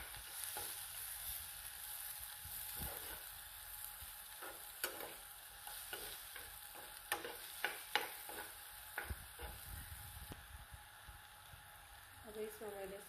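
Onion and cumin frying in a pan while being stirred, with a steady close sizzle under scattered scraping and clinking stirring strokes.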